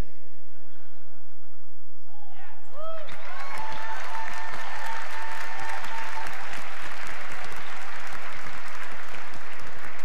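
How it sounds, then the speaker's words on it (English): A BlizzCon panel audience in a large convention hall breaks into loud applause and cheering after a quiet moment, and the clapping swells and holds steady to the end. "I hear people cheering"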